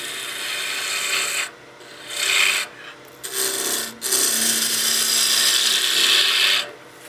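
A woodturning gouge cuts myrtle wood spinning on a lathe, giving a loud rasping, scraping hiss in several bursts separated by brief pauses, with a steady motor hum beneath.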